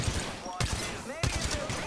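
Bursts of gunfire in Apex Legends, a few sharp clusters of shots with pauses between, mid-distance, mixed with game sounds and faint background noise.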